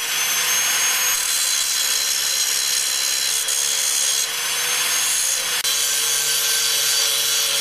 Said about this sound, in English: So I gotta sand it down, grind that down to the line.